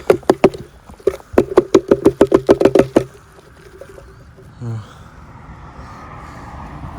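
A dug-up metal pot with a handle is knocked repeatedly in a fast, ringing series of sharp metallic taps in a field, followed by quiet outdoor background with a brief low sound.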